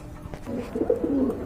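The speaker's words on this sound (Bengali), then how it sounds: "এখানে কিন্তু আরেক জোড়া কবুতর রয়েছে" A pair of pigeons coo nearby, a soft start building into low, throaty rolling coos in the second half.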